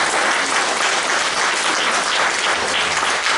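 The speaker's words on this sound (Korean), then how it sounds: "노리에 씨를 위해서 박수 한번 보내주시죠" Dense, loud applause from a church congregation for a woman receiving a volunteer service award, a steady wash of many hands clapping together, with no voices above it.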